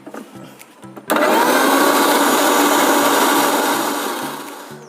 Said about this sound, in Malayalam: എനിക്ക് മിക്സിയിലിട്ടൊന്ന് അടിച്ചെടുക്കാം.